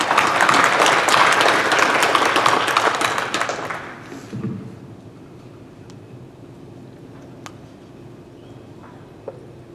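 An audience at an annual meeting's opening session applauds representatives of conformity assessment bodies, a dense wash of clapping that fades out after about four seconds, leaving a quiet room with a few faint knocks.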